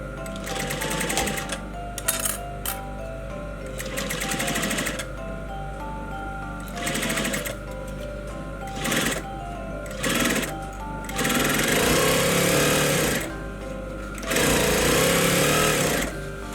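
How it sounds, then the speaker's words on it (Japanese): Sewing machine stitching a men's shirt placket from the front, bursts of rapid mechanical whirring that start and stop repeatedly, close and loud, with no voices. "表から折り幅より狭いステッチ幅で 縫っていきます。"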